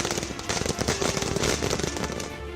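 Celebratory fireworks set off near a BJP party office and the chief minister's house after a by-election win, a dense continuous crackle of rapid firecracker bursts, loud and unbroken.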